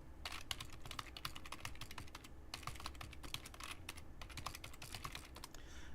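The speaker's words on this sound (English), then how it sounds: "I'm going to type out my email address here for you." Fingers type an email address on a computer keyboard in quick, uneven bursts of close, crisp key clicks, with short pauses between runs and no talking.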